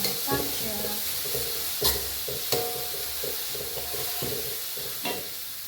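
Bitter melon stir-fried in a pan over low heat, with a spatula scraping and tapping in irregular strokes over a soft, steady sizzle, near and moderately loud, no voices.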